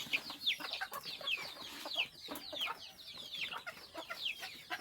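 Desi chickens cluck busily while pecking at broiler feed, many overlapping short calls close by and fairly quiet, with no voices.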